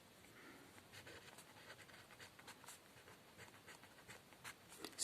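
Pen on paper writes out a maths equation, a soft scratching patter of quick irregular strokes, close but very faint, with no voices over it.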